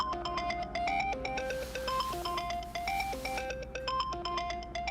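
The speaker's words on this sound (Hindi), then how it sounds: "मुरसलीन का फोन है?" A phone ringtone plays a bright, repeating electronic melody of stepped tones, steady and fairly loud throughout, with no voices over it.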